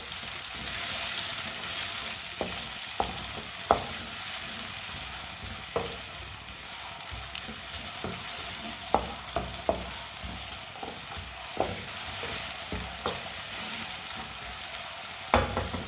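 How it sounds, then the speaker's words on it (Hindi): Steady sizzling of onions frying in a pan, with occasional clinks and stirring scrapes, close up, no voices. "प्याज को 1 मिनट के लिए पका लेंगे।"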